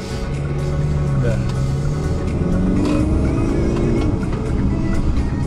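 A powerful car's engine roars and climbs in pitch as it accelerates hard, with the whine rising through the gears, heard loudly from inside the vehicle.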